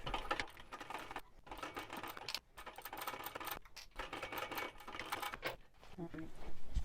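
A sewing machine runs at stitch length 3.5 on a zip wristlet seam, with back stitching at each end. Quiet bursts of rapid needle chatter are broken by short pauses.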